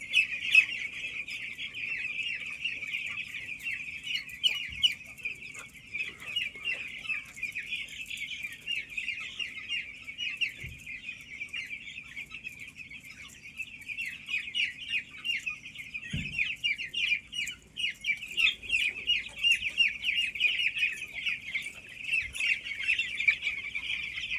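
A large flock of chickens on a poultry farm with nipple-drinker water lines clucks and chatters continuously as a dense, steady din, with occasional low knocks and thumps standing out.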